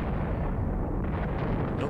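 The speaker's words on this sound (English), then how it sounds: "Got hit by rockets and mortars." Rocket and mortar explosions from the Panzer Battles Kursk wargame, a dense continuous barrage of booming blasts that fills the whole moment with loud, heavy rumble and no pauses.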